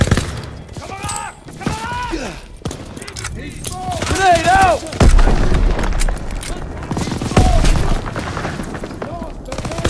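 A grenade detonates in a Call of Duty WWII D-Day battle, a low boom amid constant gunfire and shouted voices, with battle noise layered under the speech throughout.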